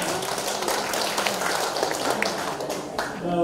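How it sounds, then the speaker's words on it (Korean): A dense, even patter of clapping from an audience greeting a singer at a singing class, steady and fairly close for a few seconds, with a voice briefly heard near the end. "박수 받으겠습니다"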